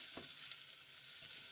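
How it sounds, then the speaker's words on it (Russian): Onion, carrot and cabbage frying in sunflower oil in a soup pot, giving a dense steady sizzle with a few soft stirring scrapes, close and continuous with no talking. "Затем добавляю капусту, все слегка обжариваю."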